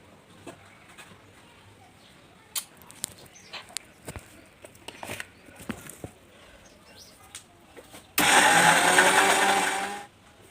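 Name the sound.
mixer grinder grinding dal for vada batter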